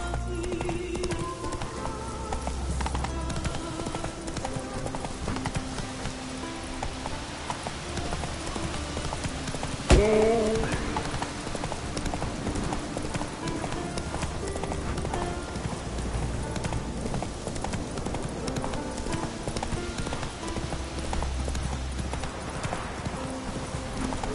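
Roach, the horse in The Witcher 3, gallops with a steady, rapid clip-clop of hooves that carries on throughout, along with game ambience and a sharp transient about midway.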